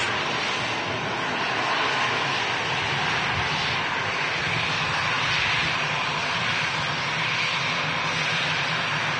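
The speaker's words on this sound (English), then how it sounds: "Qatar triple next to touchdown." A Qatar Airways Boeing 777 landing at Manchester Airport roars with a loud, steady broadband engine rush that holds for about nine seconds, swelling slightly midway, with no voices over it.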